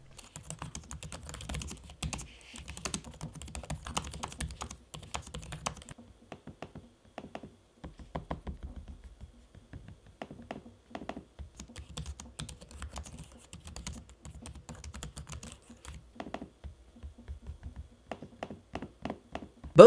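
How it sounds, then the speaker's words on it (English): Typing on the keyboard of an HP Spectre x360 laptop, then clicking on its trackpad: quiet, close, irregular bursts of key taps separated by short pauses, with no voices. "you can listen for me typing and then using the trackpad"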